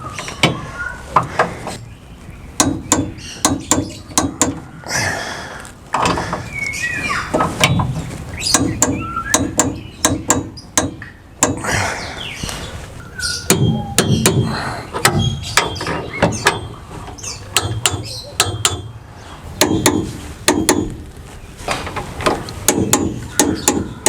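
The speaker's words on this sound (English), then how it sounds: "now that we've got all the bolts in, we can start to torque them down" Repeated sharp metallic clicks and knocks from a torque wrench tightening M8 high-tensile towbar bolts, coming in irregular bursts of ratcheting and clunks over a steady background.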